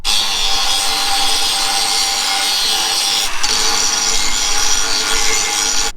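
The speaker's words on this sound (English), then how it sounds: "So I'm just gonna grind that leading edge," Power grinder working the leading edge of a metal combine part, a loud continuous abrasive grinding that holds steady for about six seconds with a brief dip midway.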